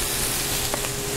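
Pork chops searing in a hot pan give a dense, continuous sizzling hiss, close and even throughout, with no talking.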